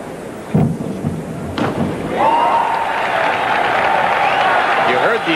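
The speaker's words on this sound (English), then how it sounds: "You heard the approval from the crowd" A crowd roars in approval after a men's 3-meter springboard dive at the 1981 NCAA Diving Championships, the broad, loud cheering building after a couple of seconds and holding steady, with a few voices rising above it.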